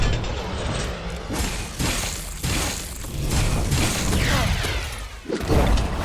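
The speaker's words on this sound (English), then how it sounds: "that explosion I think is Doom" Explosions in the video game Netherworld Covenant, with a string of heavy booming blasts and shattering crashes in quick succession, loud and dense throughout with mechanical clatter layered in.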